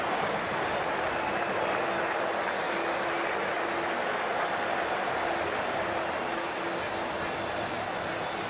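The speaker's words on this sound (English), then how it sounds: "The crowd has arrived and it's near capacity." Stadium crowd in the Cricket 24 video game at a near-capacity IPL match between CSK and DC, a steady, dense wash of cheering and murmur that holds at an even level throughout, with no single voice standing out.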